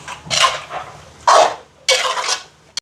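A spoon scrapes and clanks against a pot while salt is stirred into chicken curry, several distinct metallic strokes at close range in an uneven rhythm, ending with a small sharp tap.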